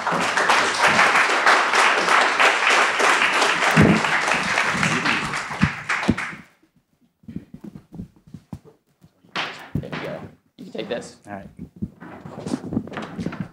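An audience applauds as panelists come on stage at a conference panel, with dense, loud clapping for about six seconds that stops abruptly, then sparse footsteps and taps with people talking.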